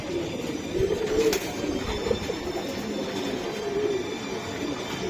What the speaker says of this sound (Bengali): এটা ফিগো লাইনের একটা কবুতর